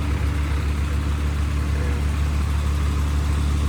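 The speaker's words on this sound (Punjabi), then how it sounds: "ਆ ਰਾਜਾ ਟਰੈਕਟਰ ਖੜਾ ਆਪਣਾ ਆਵਾਜ਼ ਵੀ ਸੋਹਣੀ ਆ ਤੇ ਸਲੈਂਸਰ ਵੀ ਬਹੁਤ ਸੋਹਣਾ ਲੱਗਦਾ ਮੈਨੂੰ" A Raja tractor stands idling in a rain-flooded paddy field after puddling, its engine and silencer giving a steady, loud low rumble throughout with no break and no talking.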